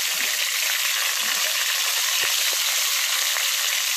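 Mule deer meat browns with bacon in a 12-inch pot, giving a steady, bright sizzle throughout, with occasional soft knocks from stirring.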